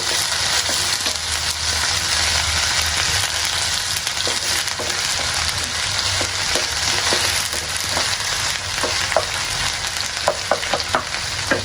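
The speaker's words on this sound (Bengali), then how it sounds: "এখন অল্প অল্প করে লাড়া দেবো আস্তে আস্তে লাড়া দেবো" Onions frying in a pan as they are stirred slowly, a constant loud sizzle with occasional soft scrapes and clicks of the utensil, close up, no talking.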